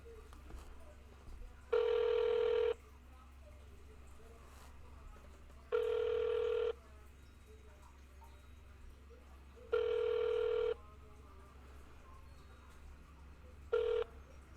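A telephone line ringing while a call is transferred to a deputy chief's extension, with four evenly spaced ring bursts, about one second each, every four seconds over a low line hum.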